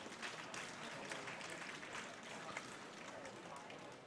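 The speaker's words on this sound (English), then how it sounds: "A round of applause from the audience there for that ball." A small audience at a lawn bowls tournament claps steadily for a few seconds, a soft, distant patter of applause with faint voices mixed in.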